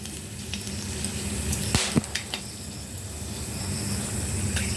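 Whole cloves, cardamom pods and cinnamon sticks fry in hot ghee in a wok, giving a steady, close sizzle with a few light taps and clinks near the middle, and no voices.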